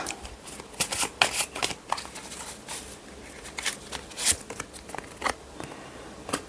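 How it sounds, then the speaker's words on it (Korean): Tarot cards being shuffled and drawn by hand, a series of crisp, close riffling and flicking bursts with brief pauses between them, no talking. "카드 뽑아 볼게요. 그리고 카드 하나만 더 뽑겠습니다."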